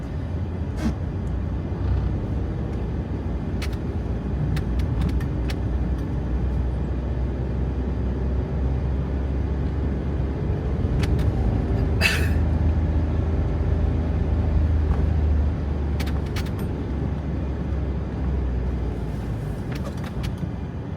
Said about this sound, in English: This would show up as traffic congestion on Google Maps, I think.